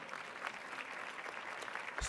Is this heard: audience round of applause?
yes